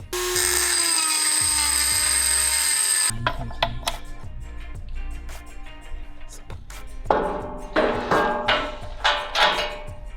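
A power tool grinding out a slot in a steel bumper light bracket on a Toyota Tundra overland build, a steady loud whine for about three seconds, then clanks, scraping and a few shorter bursts of tool noise.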